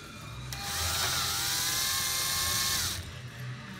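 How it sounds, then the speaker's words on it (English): A power drill bores a rivet hole in a carbon-fibre rocket tube, a high, steady whine lasting about two and a half seconds that starts abruptly and winds down, close and alone. "Just drill a hole and then put the rivet inside"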